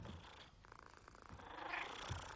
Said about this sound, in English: they were purring away and there was lovely sounds